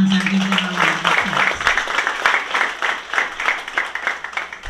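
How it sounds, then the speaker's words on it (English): Rhythmic clapping from a crowd at a secondary school graduation ceremony, a brisk, regular beat that builds after a brief sustained tone at the start, moderately loud with faint murmuring. "Let's put our hands and give them a round of applause."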